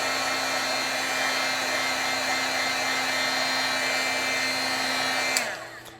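A heat tool blows steadily to heat set stamping ink on a card, a loud, close, even whirring hum that holds for several seconds before being switched off and winding down.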